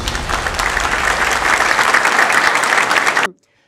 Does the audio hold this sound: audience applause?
yes